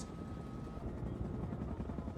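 A helicopter from the Chernobyl TV series drones steadily and loudly, its dense rotor and engine roar continuous and unbroken with no talking.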